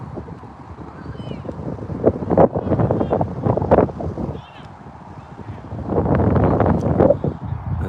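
Gusty wind buffets the microphone at an outdoor soccer match, giving low rumbling surges that rise and fall in loud bursts, with muffled voices in the background.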